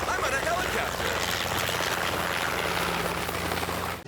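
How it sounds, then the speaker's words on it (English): A helicopter's steady whirring roar fills the cabin, loud and constant, with a voice speaking faintly under the engine noise. "I'm on a helicopter."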